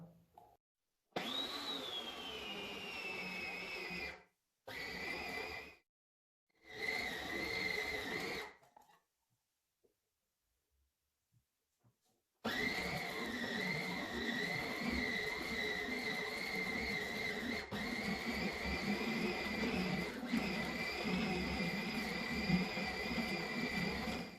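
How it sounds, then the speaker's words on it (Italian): A stand mixer kneads brioche dough for pastry-cream brioche twists, whirring loud and close in short intermittent bursts, then pausing before running steadily for the rest of the time. "io faccio lavorare il mio impasto all'interno del mixer per circa 3 minuti ad intermittenza."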